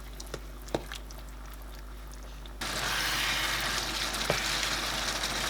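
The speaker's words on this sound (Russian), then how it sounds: "Томатное пюре перекладываем к фаршу со специями и хорошо перемешиваем деревянной лопаткой." A wooden spatula stirs tomato puree into spiced mince in a frying pan, giving a few soft scrapes and taps, then a sudden loud sizzle of frying that continues steadily.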